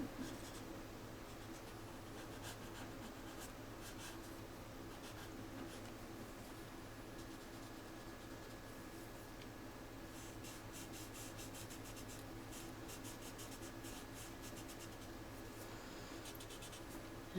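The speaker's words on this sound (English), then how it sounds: "rubbing very gently onto here, rubbing very gently on there" Pencil rubbing very gently across paper during a design-element drawing lesson, a soft continuous scratchy hiss with brief busier strokes, quiet and close over faint room hum, no talking.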